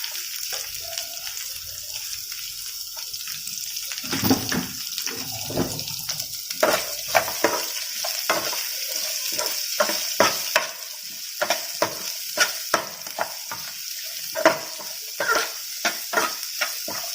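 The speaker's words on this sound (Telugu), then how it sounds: "బాగా ఫ్రై చేసుకోవాలి." Chopped medium onion frying with potato and cauliflower pieces in an Andhra-style pan fry: a steady sizzle with repeated sharp scraping and clinking of a spoon stirring the pan, no voices.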